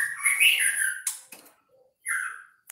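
A murai batu (magpie robin) singing nearby in bright clear whistled phrases, a rising sweep followed by short sharp chirps, then a pause and another whistled note, alone with no other sound.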